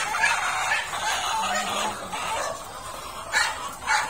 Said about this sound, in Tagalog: yan ang sounds ng mga manok na matured na talagang nangingitlog